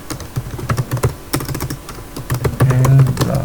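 Quick bursts of clicks and taps come from a computer keyboard as code is typed for a Django web project, the keystrokes close and uneven with short pauses between runs.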